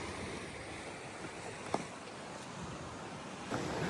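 Atlantic Ocean waves washing in over a shoreline make a steady broadband wash with a brief splash near the middle and a swell of surge toward the end. No one speaks.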